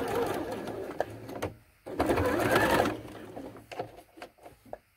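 Sewing machine stitching fabric for a zippered tab, running in close bursts of rapid needle chatter that stop and restart, with a short pause and then faint clicks at the end.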